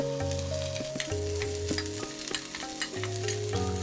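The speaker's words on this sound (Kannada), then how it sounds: "ನಂತರದಲ್ಲಿ ನೆನೆಸ್ಕೊಂಡಂತಹ ಸಬ್ಬಕ್ಕಿಯನ್ನು ಈ ಒಗ್ಗರಣೆಯಲ್ಲಿ ಹಾಕ್ಕೊಂಡು ಬಿಡೋಣ" Soaked sabudana is stirred into a hot tempering in a pan, giving a steady sizzle and frying crackle with scraping stirring strokes, close and alone without any voices.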